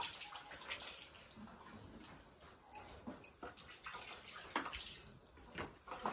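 Village radishes being washed by hand in water, with faint splashing, sloshing and dripping over a few seconds, fairly quiet with small irregular bursts.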